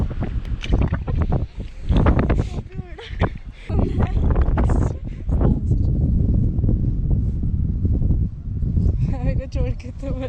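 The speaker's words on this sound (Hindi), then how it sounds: "यहाँ बहुत तेज हवा चल रही है" Strong mountain wind gusting across Manila ground at Gunji, roaring and buffeting the microphone in steady rushes while people talk over it.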